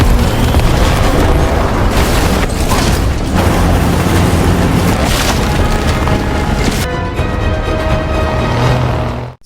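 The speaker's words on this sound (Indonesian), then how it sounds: "si robot menyerang dengan jarak jauh dengan cara menembakkan bola peledak ke udara" Loud booming explosions from a robot launching explosive balls through the air in a film battle, dense and continuous with crackling, splintering debris over several seconds, then a slightly quieter rumbling tail.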